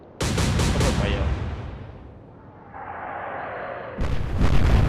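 Naval guns firing in the warship game Atlantic Fleet: a salvo of loud, rapid booms opens the clip, fades into a rumbling decay and hiss, then another heavy burst of fire lands near the end.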